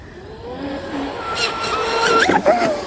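A small electric motor on a Surpass Rocket 4082 in a fast RC boat with a 3-blade CNC propeller whines and climbs in pitch as it revs up, with a high propeller buzz and rising intensity, no talking.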